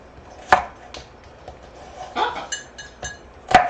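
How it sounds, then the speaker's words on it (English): A knife chops through an onion on a cutting board, a few irregular knocks and taps spaced apart, close and moderately loud, with faint kitchen clatter between them. "I hate cutting onions"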